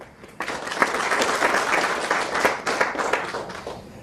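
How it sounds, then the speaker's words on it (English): Audience applause fills a conference hall, a dense, steady patter of many hands clapping that starts abruptly and carries on for several seconds at moderate loudness, with no talk over it. "A round of applause, please, for Mr. Shashank Ludra."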